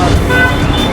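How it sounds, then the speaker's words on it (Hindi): Noisy street traffic in Lucknow on the way to the Bara Imambara: a loud, continuous wash of road noise with a short horn toot, heard close by under a steady city din, with talking mixed in. "यहाँ की बहुत ही शोर भरी गलियों से निकलते हुए हम लोग वहीं पहुँच रहे हैं"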